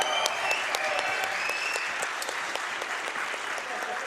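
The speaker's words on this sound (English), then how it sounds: "Come on, everybody, cheer." A convention audience applauds and cheers in a sustained wash of clapping, with whoops and shouts mixed in, steady and fairly close throughout.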